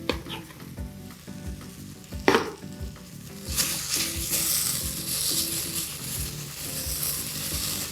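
Tomato cooks down in a pan for macarrão à putanesca with a continuous frying sizzle and stirring scrapes. A sharp burst comes near the middle, then the sizzle swells louder and stays bright to the end.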